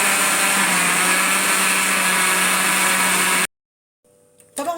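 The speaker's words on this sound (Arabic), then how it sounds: "هنرجع نضرب المكونات دي كلها تاني مع بعض كده إيه في الخلاط" A blender whirs loudly and steadily as it beats cake batter of flour, eggs and baking powder for a strawberry-sauce blender cake, then cuts off abruptly into near silence, followed by a brief faint clatter at the end.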